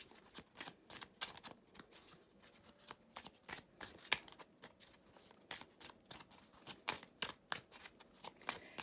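Tarot cards are shuffled, slid and flipped over on a table, giving a close, quiet run of crisp papery snaps and flicks in an irregular rhythm, with no voice.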